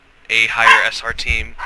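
Dogs barking and yipping indoors in a sudden short burst, loud and close, layered under someone talking at the same moment.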